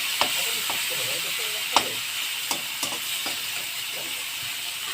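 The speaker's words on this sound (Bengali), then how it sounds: "দেখো, আমি ভেজে নিই মাছটা।" Prawns fry in a pan with a steady bright sizzle and hiss throughout, broken by a few sharp clicks and taps of stirring, close and fairly loud.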